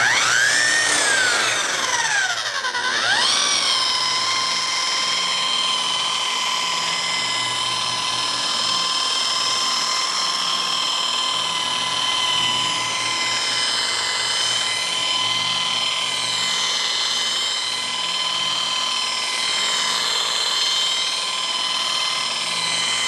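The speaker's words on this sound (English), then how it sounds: "start polishing." Machine polisher working car paint before a ceramic coating, a continuous close whine that rises and dips in pitch at the start, then holds steady and loud throughout.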